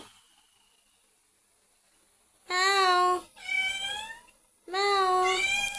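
A pet cat lets out three loud, close, drawn-out meows after a quiet opening, the second call slightly shorter, with brief pauses between them.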